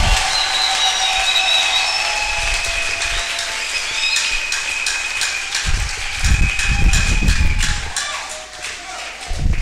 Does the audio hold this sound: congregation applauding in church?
yes